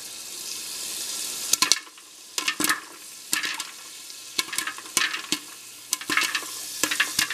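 A popcorn popper stirring kernels as they begin popping, with sharp clusters of crackling pops over a quiet steady hum, close by and uneven in rhythm, with no voices.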